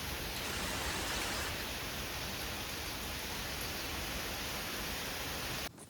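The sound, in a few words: rain falling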